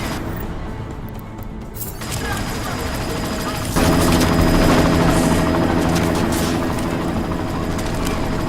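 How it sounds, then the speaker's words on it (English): A helicopter in the game Deus Ex: Mankind Divided roars loudly and continuously, its rotor and engine noise swelling midway and mixed with bursts of gunfire and combat sounds. "You've got to stop that chopper."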